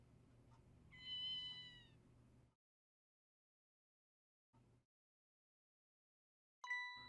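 A kitten in the video game Ghost Trick gives a clear drawn-out meow, then a short faint sound after a silence, and finally a sharp bright chime-like cue at the end, with no talk.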